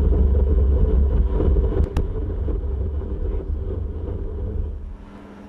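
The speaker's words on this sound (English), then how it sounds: "as well as at the end of a stop, you will hear some pump motor run on" The ABS pump motor of a 1999 Buick with the DBC 7 system runs on after the car stops, giving a steady low rumbling hum with a brief click partway through, close and fading at the end.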